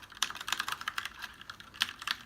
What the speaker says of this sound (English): This is a brown switch, by the way. You have a blue switch and a red switch. Blue switch is even more noisier.